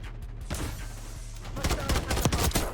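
Rapid bursts of gunfire from Black Ops 6 multiplayer, a CR-56 AMAX rifle among them, crackle loud and close, thickening into dense volleys toward the end.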